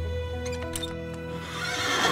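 A horse at a rural property gives a clear, close neigh, its harmonic whinny rising and wavering for about two seconds without any talk over it.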